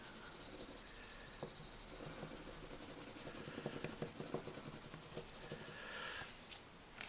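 Crayon rubs steadily over paper laid on textured wood for fish frottage art, a soft continuous scratchy rasp with quick repeated strokes, faint and close, with no talking.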